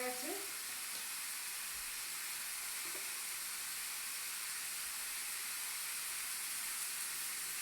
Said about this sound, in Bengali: ফুলকপি নুন হলুদ চিনি দিয়ে এটাকে ভালো করে লাল করে ভাজতে হবে